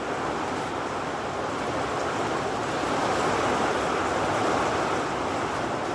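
Strong wind roars steadily outdoors, gusting hard enough to throw things against a fence; a loud, continuous broadband rush with no pauses and no talking.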